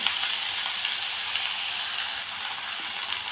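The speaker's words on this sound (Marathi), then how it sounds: "कांदा, मिरची, राई, जिऱ्याच्या फोडणीमध्ये मी चिरलेलं दोडकं टाकलं" Chopped ridge gourd fries in a tempering of onion, chili, mustard seeds and cumin, giving a steady, moderately loud sizzle with small scattered pops and no voices.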